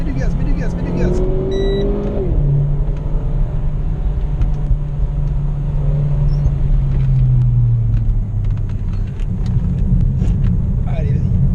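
A Renault Clio 4 RS engine drones and rumbles steadily as the car accelerates on the Bourbonnais circuit, with a sustained low engine note sweeping in pitch and an instructor speaking over it.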